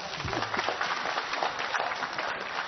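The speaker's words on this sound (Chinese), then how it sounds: "我们给大家一点掌声好不好？" Studio audience clapping together on a Chinese television health programme, a dense, steady patter of many hands at moderate distance, sustained for a few seconds with no voices.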